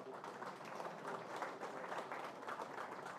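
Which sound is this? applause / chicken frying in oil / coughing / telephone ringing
applause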